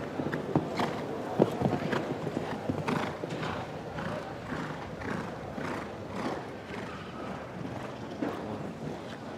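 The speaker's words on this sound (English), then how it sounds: "Laura Roque Pignero, with the 8-year-old mare Cricket, owned by Kilia Sport Horses." An 8-year-old mare clip-clops around a show jumping arena in Barcelona, her hooves striking in a steady rhythmic gallop at mid distance, with wind buffeting the microphone and a faint voice in the background.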